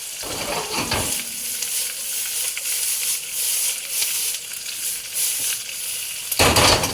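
Hot dogs sizzle loudly on a hot cooking surface, a dense continuous crackling hiss with small popping spatters throughout and a louder burst near the end.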